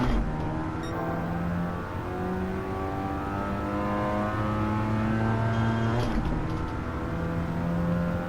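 A Mazda RX-7 FC in Gran Turismo 7 revs through its gears, a steady, buzzing rotary engine note climbing and shifting in pitch with a sharp gear change midway, heard close and continuous without talk.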